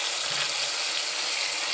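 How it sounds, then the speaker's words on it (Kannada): Tamarind masala mixture bubbling and boiling in a pan, a steady dense hiss and gurgle with no break and no voices. "ಈಗ ಅದು ಕುದಿತೈತಿ"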